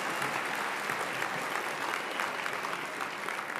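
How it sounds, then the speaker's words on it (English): Steady, even applause from a large convocation audience honoring hospitality graduates, moderately quiet and continuous with no talk over it. "please give a round of applause for the graduates from the Hospitality Event Management"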